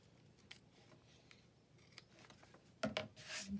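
Scissors snip paper corners while making an ephemera pouch page, a few quiet cuts early on, then sharper, louder snips close up near the end, with no voices.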